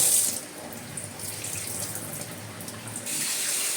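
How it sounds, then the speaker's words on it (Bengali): Water running from a kitchen tap to soak washed rice for chicken pulao, a steady close splashing hiss lasting the whole clip and slightly louder at the start and end. "এই চালটাকে আমি এবার ভিজিয়ে রেখে দিই"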